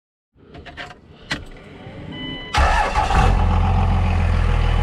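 A Dodge second-generation Cummins diesel truck starting up: faint clicks and key sounds and a cranking whine, then the engine catches loudly and settles into a steady, close diesel idle.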